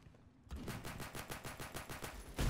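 Rapid gunfire from a pistol in the shooter game Phantom Forces, a quick, evenly spaced string of sharp cracks close up, following a brief quiet lead-in and ending on a heavier burst.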